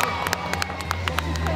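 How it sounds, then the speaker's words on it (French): A roadside crowd at the Tour de Romandie cycling race claps and cheers as riders pass, with scattered claps and voices over a steady outdoor murmur. "Vous suivez la course, on vous voit applaudir."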